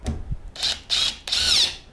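A Dewalt DCF850 cordless impact driver fitted with a hex-shank roofing screw bit, heard in three close bursts of high whining, rattling impacts separated by short pauses.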